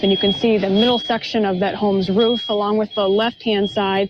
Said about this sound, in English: You can hear the chorus of fire alarms that are going off